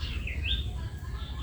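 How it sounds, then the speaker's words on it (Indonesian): Cipo birds chirping behind a house, with a few clear whistled and rising chirps close by over a low, steady background hum, and no one talking. "Di sini berkicau banyak banget di belakang rumah."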